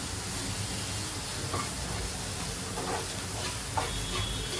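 Mushroom masala sizzles while being sautéed in a pan, a steady close hiss with faint scraping and occasional soft pops, no voices over it.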